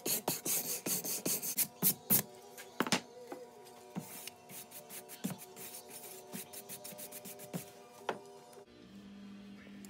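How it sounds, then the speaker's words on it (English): A standard wire brush scrapes down the wooden lid of a whiskey barrel in repeated rasping strokes, loud and close, with irregular pauses between passes before a quieter stretch at the end. "Use a standard wire brush. Scrape it down real good"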